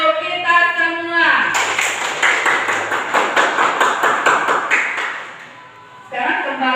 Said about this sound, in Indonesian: Sekarang tepuk tangan untuk kita semua.